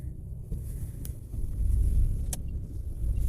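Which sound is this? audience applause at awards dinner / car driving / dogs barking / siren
car driving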